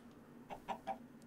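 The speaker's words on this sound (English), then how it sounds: "I hear the cluck cluck of beautiful chickens." A few short, soft clucks from chickens in the Minecraft mod TerraFirmaCraft, three close together and one more just after, fairly faint against a quiet background.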